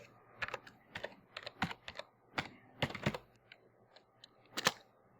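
A word is typed on a computer keyboard, close and clear, with about a dozen distinct keystrokes in uneven bursts and short pauses against near silence, ending in a louder final key press.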